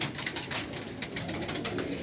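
A Ferozpuri pigeon of the Anmol piplan breed, black-winged, coos softly and low, a faint continuous murmur close by with no voices over it.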